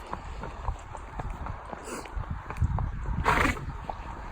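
A ridden horse's hooves clip-clop steadily on a hard road with traffic under breezy rumble, with a brief passing noise near the end.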